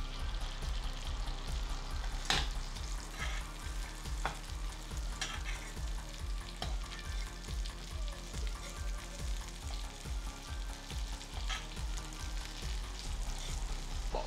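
Plant-based meat frying in a pan, a faint steady sizzle with a regular rhythmic scraping from stirring and a few sharper clicks, no voices.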